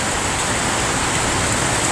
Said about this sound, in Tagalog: Hindi pa rin tumigil yung ulan.